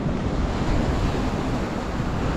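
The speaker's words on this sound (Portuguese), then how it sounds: "O mar tá querendo o espaço dele, né?" Sea waves surge onto the promenade at Boa Viagem beach in Recife, a loud, continuous roar of churning surf blended with strong wind buffeting the microphone, with no voices.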